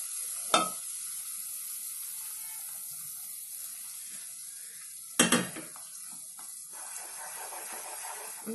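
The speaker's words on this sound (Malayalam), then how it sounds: "കുറച്ചും കൂടെ ആ എണ്ണ ഇതിലേക്ക് ഒഴിച്ചു കൊടുക്കുക" Oil poured into a pan of cocoa Mysore pak mixture, giving a soft continuous sizzle and hiss with two sharper splash-like bursts, close and without talk.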